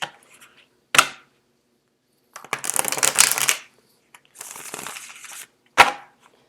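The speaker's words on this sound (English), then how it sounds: "I'm actually going to do one more shuffle." Tarot cards are shuffled up close: a sharp snap, then two longer riffling bursts of flicking cards, and a final crisp tap as the deck is squared, with silence between.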